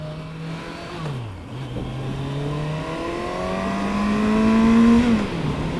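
A 2019 Kawasaki Versys 1000 SE LT motorcycle in sport mode on country roads revs hard toward about 8,000 RPM. The engine pitch climbs steadily, dips once at a gear change, then rises again, loud and close with no talking.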